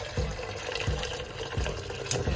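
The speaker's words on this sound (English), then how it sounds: "I'm gonna top that with some hot water." Hot water poured into a cooking pot of peas for a vegan Jamaican-style dinner makes a continuous splashing, gurgling pour with small repeated bubbling pulses, close and moderately loud.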